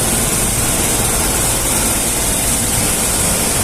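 A ship's main engine runs in the engine room with a loud, steady, dense roar that does not change, with no other sound breaking through.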